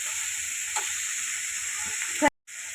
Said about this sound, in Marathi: तूप टाकलेले तुपामध्ये मी फ्राय करते